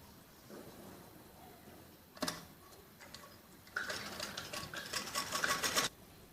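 A sewing machine runs a straight stitch along a hook strip on a jacket frock, with a short burst, a pause, then a longer run of fast rattling stitches close by, no talking.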